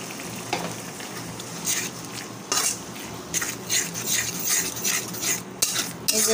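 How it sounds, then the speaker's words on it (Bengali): Turmeric, chili and other ground spices frying in a pan while a spoon stirs them, giving a constant sizzle broken by repeated metallic scrapes and clinks, close up, with no talking. "এই যে ভালোভাবে কষিয়ে নিচ্ছি"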